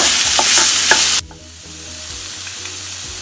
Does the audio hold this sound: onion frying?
yes